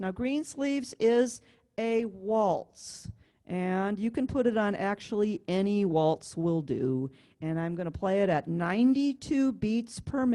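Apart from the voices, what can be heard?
None of the usual background noises is heard.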